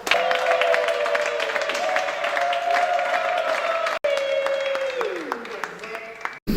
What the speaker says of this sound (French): d'accueillir notre cher camarade qui vient d'adhérer dans notre parti politique de la RDC, avec des applaudissements